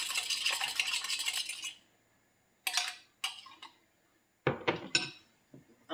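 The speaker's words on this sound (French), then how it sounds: "Donc je le fouette énergiquement pour le faire blanchir." A whisk beats a mixture with sugar hard in a bowl, bursts of rapid clinking and scraping against the bowl, close and loud, broken by brief pauses, with no talking.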